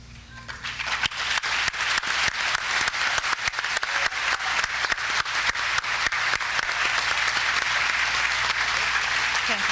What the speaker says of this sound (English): About one more nice round of applause for our ever-competitive robotics team